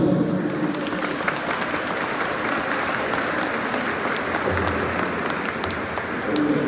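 Sustained, loud applause from a large audience at a university graduation ceremony in Cap-Haïtien, a dense steady wash of clapping filling the whole stretch with no talk over it.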